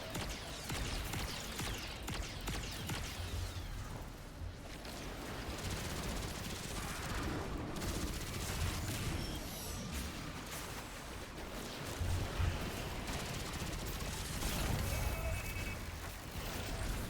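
Continuous gunfire in the Destiny video game, with dense rapid bursts and scattered shots, loud and unbroken throughout, including friendly fire on teammates.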